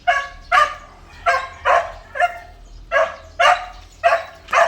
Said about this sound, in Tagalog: Doon tayo para maingay kasi yung aso.